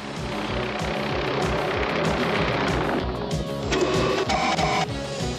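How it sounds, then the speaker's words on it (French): A loud, steady mechanical drone with a chopping low-end throb, like a nearby helicopter, continuing throughout with some whirring changes near the end. "C'est Mayhem dans son hélicoptère."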